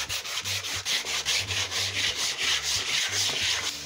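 Old wood stripped with white vinegar is sanded and scrubbed by hand in loud, close, rhythmic back-and-forth rasping strokes, about three per second, with no talking.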